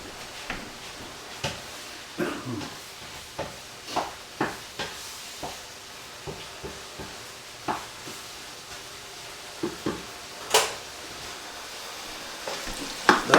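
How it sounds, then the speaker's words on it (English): Meat and onions sear in a pan for chili, a soft continuous sizzle underneath with scattered sharp clicks and scrapes of a utensil against the pan at irregular intervals. "Got a nice little sear on that meat, and my onions are translucent."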